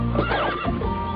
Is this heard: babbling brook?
no